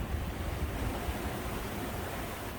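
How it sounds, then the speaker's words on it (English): Wind and sea waves off the Dutch coast during a sailing trip from Amsterdam to The Hague, a steady broadband rush of surf and gusts filling the whole clip with no voices. "We've got some wind, we've got some waves."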